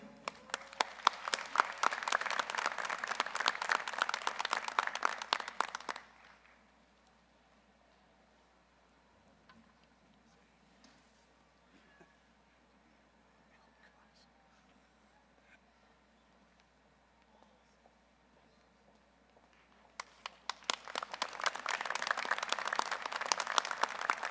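An audience at a university graduation ceremony applauds for several seconds, then the room falls quiet for a long stretch before a second round of clapping swells up.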